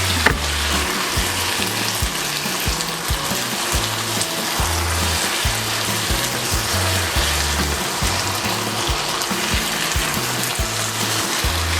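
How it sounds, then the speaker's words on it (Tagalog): Eggplant sizzles and fries in a hot pan after pepper goes in, a loud steady crackle running unbroken throughout, with rhythmic low bumps of stirring or pan movement beneath and no voices. "Pwede na natin ilagay ang ating talong."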